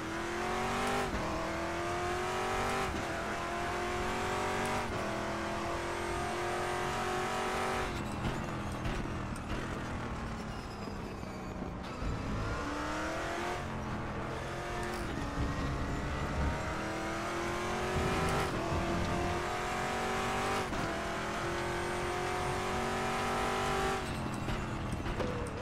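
A 1992 DTM race car engine screams at Mid-Ohio in RaceRoom, sustained and loud, with repeated rising revs and sharp drops at each gear shift, running alone without voices.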